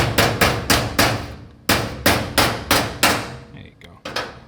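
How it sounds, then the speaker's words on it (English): Ball peen hammer striking a block of aluminum taken off a Tesla, about a dozen sharp metallic blows in steady bursts of four, close and loud, with a short pause midway. "This is a block of aluminum off that Tesla. And this is a ball peen hammer."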